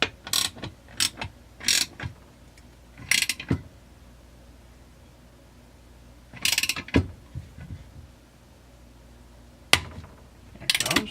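A wrench turns a bearing puller on a Stihl MS440 chainsaw crankcase, giving close, sharp ratcheting clicks in short bursts separated by quiet pauses.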